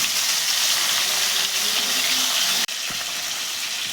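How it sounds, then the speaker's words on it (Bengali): Pabda fish coated in salt and turmeric fry in hot oil, a steady close sizzle and hiss running throughout, with one brief dropout near the end. "সেই মাছগুলো দিয়ে ভেজে নেব।"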